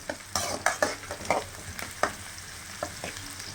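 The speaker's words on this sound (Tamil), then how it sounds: "வெங்காயம் நல்லா வதங்கட்டும்." Sliced onions sizzle softly in hot oil for an egg curry, and a spoon stirs them in quick, uneven scrapes against the pan. The sound is close, with no talking.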